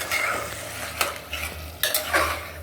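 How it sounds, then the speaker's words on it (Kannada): A utensil stirs a ground tomato mixture in oil in a pressure cooker while making chicken biryani, with steady sizzling and frying plus several sharp scrapes and clinks against the pot, and no voices. "ಈಗ ಇದೆಲ್ಲ ಮಿಕ್ಸ್ ಮಾಡಬೇಕು"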